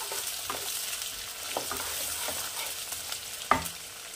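Chopped onion sizzles steadily in a hot pan with whole cloves, with a few sharp scraping knocks from stirring breaking through the close, constant frying hiss.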